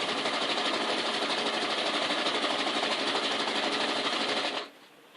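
A sewing machine runs steadily for several seconds, stitching a zigzag seam on fabric while making a couch-shaped craft from tissue boxes, then stops abruptly near the end.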